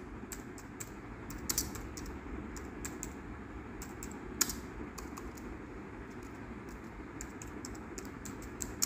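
Steady typing of C code on a computer keyboard, with continuous light key clicks and occasional louder, sharper strikes, close and alone without talk over a low background hum.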